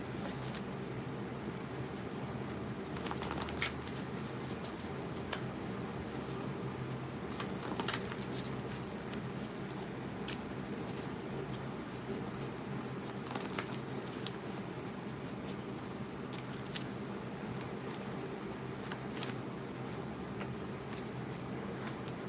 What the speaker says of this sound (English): Let me pull out some messaging cards for you